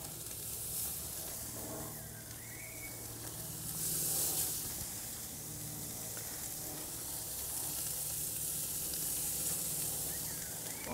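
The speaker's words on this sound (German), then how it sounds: "Nebenbei kann ich auf den direkten Bereich dann schon mal die Secreto legen, dass wir sie angrillen." Pork secreto sizzles steadily on the direct-heat zone of a grill, a constant close hiss with no talking.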